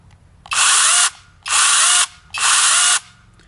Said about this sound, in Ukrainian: Зверніть увагу, як працює ця ланцюгова пилка.